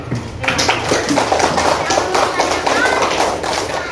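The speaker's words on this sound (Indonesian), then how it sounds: "Oke, tepuk tangan dulu." Elementary schoolchildren in a classroom at SD Pertiwi 1 in Ternate clap together, a busy patter of small hands mixed with chatter and young voices throughout.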